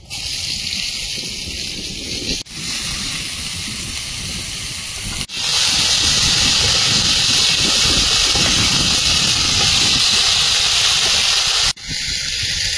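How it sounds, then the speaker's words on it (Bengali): Gourd stalks tipped into potatoes frying in oil, a loud, continuous sizzling hiss that surges sharply as they go in and stays strong, with a couple of abrupt breaks. "আলুটা লাল লাল করে ভেজে নিয়েছি, এবার ডাঁটাটা দিয়ে দেবো।"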